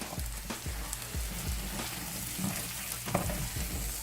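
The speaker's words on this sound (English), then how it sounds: "I'm gonna give that a stir. It's gonna kind of deglaze some of that flour off the bottom of your pan as well" A flour-thickened sauce is stirred in a pan for a short stretch, giving soft scraping strokes and gentle bubbling close up, with no voices.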